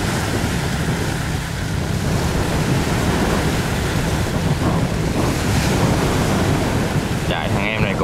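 Sea waves crash and wash around an iron boat out at sea, with strong wind buffeting the microphone in a constant loud roar.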